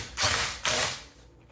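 A ratchet undoing a nut on a VW Tiguan during water pump and CV axle work, two loud rasping clicking strokes in quick succession, then quiet.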